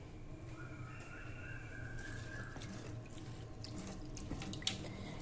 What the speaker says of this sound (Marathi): हे दोन्ही डाळी आता आपल्याला पाणी घालून स्वच्छ धुवून घ्यायच्या आहे।